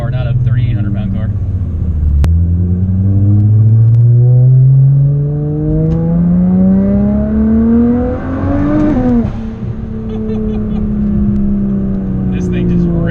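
A Midnight Purple Nissan Skyline R34 GTR pulls hard on the road, its engine note climbing loudly and steadily through the revs before a sharp gear change drops the pitch, then builds again.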